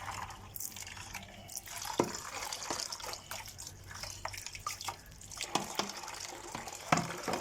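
Chickpeas, white lobia and green moong dal being rinsed under running water, with quiet splashes, drips and sloshes that come in uneven bursts, close and soft.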